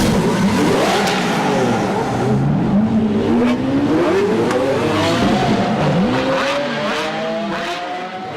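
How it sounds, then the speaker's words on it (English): A 2019 Ford Ranger pickup truck drives close by, its engine loud and revving with rising and falling pitch sweeps as it accelerates and passes. "And here it comes, 2019 Ford Ranger."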